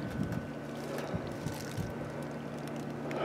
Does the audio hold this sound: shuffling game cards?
no